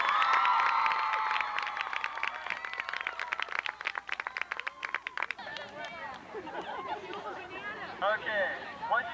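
A school assembly audience cheers for two knights at a medieval-themed event, with loud sustained whooping, a patter of claps and children's voices in excited babble, fading into chatter.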